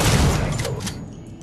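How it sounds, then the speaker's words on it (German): Gunfire in the video game Alien: Isolation: a sharp burst of shots at the start, loud and close, decaying quickly into a fading echo within about a second. "Wieso hat er jetzt zwei Schüsse gebraucht?"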